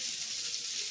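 Fish fries in oil in a pan, a soft steady sizzle with no pauses, faint and heard close up with no one talking.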